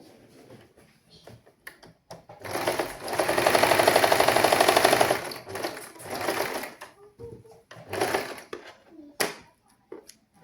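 Sewing machine stitching a frock, one long steady burst of close whirring stitching, then a few shorter runs and scattered clicks and handling noises.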